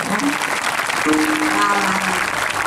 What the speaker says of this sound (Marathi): टाळी तर वाजलीच पाहिजे